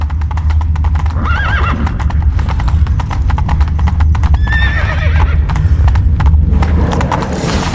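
Roach, the horse in the video game The Witcher 3, galloping with loud, rapid clip-clop hoofbeats and a couple of shrill whinnies over a low rumble.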